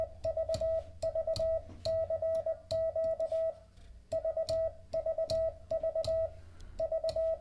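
Morse code sent at 20 words per minute: a steady single-pitch tone keyed in quick rhythmic groups of dots and dashes, fairly quiet and clean, with short pauses between characters and a faint background hum.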